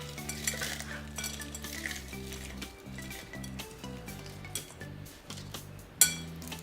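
Food is stirred in a pan while cooking steamed mussels with cannellini beans and pear cider broth. Utensils clink and scrape against the pan over a low sizzle, and music plays underneath.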